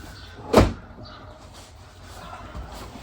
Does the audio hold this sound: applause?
no